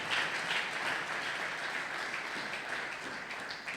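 A church congregation at a Sunday worship service applauds with dense, sustained clapping that fills the room and tapers slightly toward the end, with faint voices beneath.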